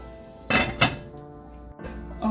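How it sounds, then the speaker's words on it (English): A metal lid is set onto a pot of Jamaican brown stewed chicken, giving two quick, close metallic clanks with ringing tones, a brief pause, then another rattling contact near the end. "I'm just going to close the lid and let it come to a complete boil."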